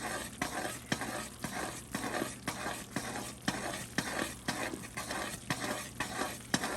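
A spoon stirs besan barfi mixture with sugar in a hot pan, giving rhythmic scraping strokes about twice a second over a soft, steady sizzle, close and even throughout.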